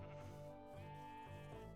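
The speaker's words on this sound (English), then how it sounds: "Where is that sheep? I hear sheep." A sheep bleats in the Otherlands settlement-building game, a single drawn-out wavering baa with rich harmonic tone, fairly quiet and heard alone without talk.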